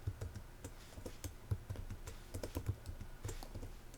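Fingers typing on a computer keyboard, quick uneven clicks and taps close by at a low level, with short pauses between bursts and no voices.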